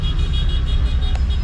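Inside an angkot minibus in Padang, Indonesia, a steady low engine and road rumble drones on without a break, close and fairly loud, with no talking.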